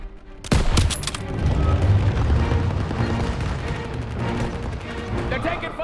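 Video game World War II street battle in Call of Duty WW2, with sustained gunfire and heavy booms, a loud opening blast followed by dense continuous rifle and machine-gun fire, with shouted voices mixed in.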